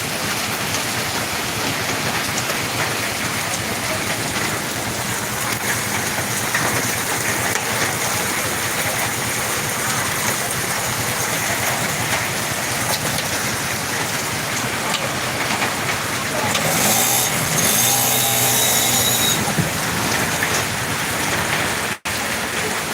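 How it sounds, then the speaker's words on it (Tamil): Steady rain falls in Ariyalur, a continuous dense hiss of drops at even loudness, with a faint engine-like rumble underneath and a brief brighter patch of splashing near the end. "இப்போ அரியலூரில் வந்துட்டு மழை வர ஆரம்பிச்சிருக்கு நல்லா பாருங்கள்"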